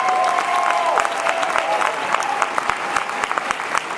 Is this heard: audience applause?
yes